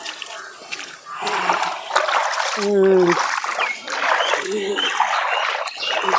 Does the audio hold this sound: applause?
no